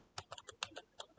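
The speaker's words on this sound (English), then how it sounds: "I'm entering it and I'm typing." Rapid keystrokes on a computer keyboard while entering HTML code in Visual Studio Code, about eight crisp clicks in an uneven rhythm, close and quiet, with no talking.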